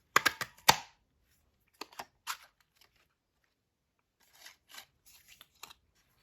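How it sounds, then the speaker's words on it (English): A paper punch snaps through sorbet cardstock to cut leaf shapes, giving several sharp, close clicks and crunches in small clusters separated by quiet pauses. "I'm going to use some of this beautiful sweet sorbet cardstock to punch some leaves."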